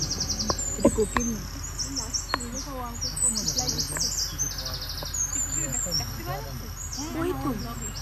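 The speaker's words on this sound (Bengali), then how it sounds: "কোকিল" Koel and other birds call in a Dooars jungle, with chirps and tweets scattered through steady insect buzz and people talking nearby.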